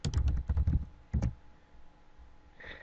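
Quick bursts of typing on a computer keyboard, a cluster of close, crisp key taps followed by a short second burst, then quiet room tone.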